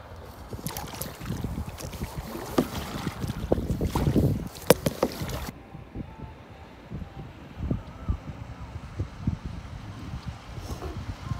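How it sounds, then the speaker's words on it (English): A motorboat rushes past nearby on the North River, its engine and hull noise loud at first, then fading away quickly under breezy wind gusts on the microphone. "Got a boat coming pretty fast. Here it comes."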